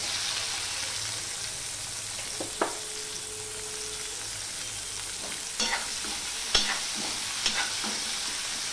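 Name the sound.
onion and garlic frying in oil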